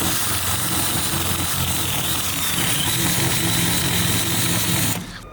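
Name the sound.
grinder wheel grinding rubber off a car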